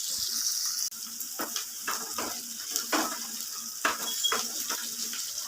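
Chopped onions fry in a pan for Punjabi-style mutton kosha, with a soft steady sizzle broken by several scraping stirs of a spoon, fairly quiet and without talk.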